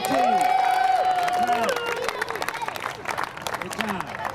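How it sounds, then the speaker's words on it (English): Spectators at a 2024 Little League All-Star baseball game applaud the American League team, scattered clapping and crowd noise rising in the second half, with a voice and a sustained tone over it at the start. "Let's have another round of applause for the American League All-Star team"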